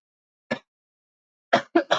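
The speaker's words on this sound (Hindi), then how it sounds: "लेकिन आज खाँसी हो रही है, लेकिन पहले की अपेक्षा कम है।" A person in a math class lesson coughs, one short cough followed by a quick burst of three, close and clear against silence.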